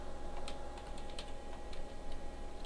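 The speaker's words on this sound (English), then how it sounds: "I'm going to type a semicolon followed by border" Typing on a computer keyboard while entering CSS code, with a scattering of light, close key clicks over steady room hiss.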